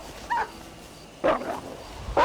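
Dogs bark from the Red Dead Redemption PC game at night where people are partying: three short yapping bursts spaced apart, moderately loud over a quiet background, with no talking.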